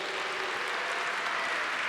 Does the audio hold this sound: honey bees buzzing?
no